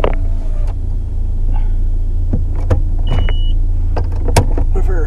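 A Vauxhall car being driven, heard from inside as a steady low road and engine rumble with scattered small clicks and knocks throughout, and no talking.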